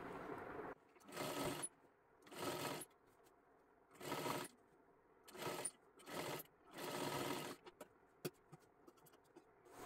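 A sewing machine runs in six short bursts of close, whirring stitching along a seam of a one-piece sari-border dress for a young girl, with brief quiet pauses between runs.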